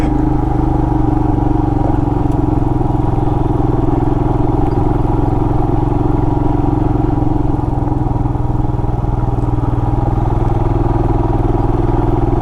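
A Royal Enfield Himalayan motorcycle engine chugs steadily and loudly throughout off-road in a forest, a constant low rumble with rattling mechanical texture and no voices.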